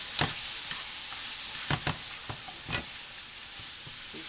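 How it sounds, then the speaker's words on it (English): Omelet eggs seasoned with salt and black pepper being stirred in a frying pan, a soft hiss of sizzling under a handful of light utensil taps and scrapes against the pan, close and quiet. "Stir it up real good so the salt and black pepper can mix all over."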